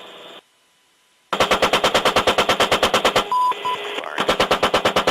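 Rapid rhythmic bursts from a military aircraft's gun, loud and close, with a brief silence before the long burst and a short tone mid-way, then firing resumes.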